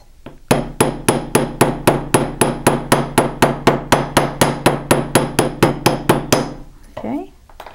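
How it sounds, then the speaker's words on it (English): A rounded hammer textures metal in rapid, evenly spaced strikes, about two dozen sharp ringing taps in steady rhythm, close and loud, then stopping. "So I'm going to take my rounded hammer."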